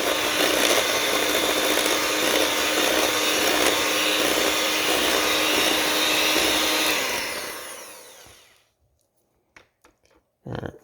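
An electric hand mixer beats butter cookie dough for Danish-style tin cookies, a loud steady whirring drone that runs close for several seconds, then winds down and stops, followed by a few light knocks and clatters.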